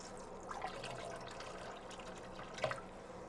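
Tap water runs into a sink being filled to wash harvested carrots. A steady, soft stream with occasional brief splashes and drips sits close by and alone.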